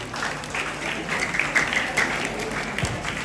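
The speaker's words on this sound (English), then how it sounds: "Let's clap for them once again." An audience applauds students at a school prefect ceremony, steady clapping filling the room at moderate level for several seconds with faint voices underneath.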